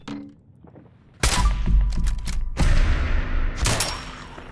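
Gunfire in Fallout 4, starting with a sudden loud burst of rapid shots after a quiet stretch and followed by further sharp bursts, close and punchy.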